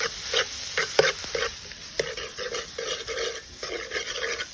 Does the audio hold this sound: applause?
no